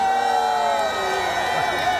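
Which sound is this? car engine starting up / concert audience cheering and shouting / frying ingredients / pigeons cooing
concert audience cheering and shouting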